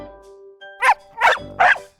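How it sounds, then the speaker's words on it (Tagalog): A dog barks three times in short, loud bursts at a moderate distance, the barks evenly spaced over a quiet indoor background with a faint steady tone underneath. "May kumakahol. May aso ba dito?"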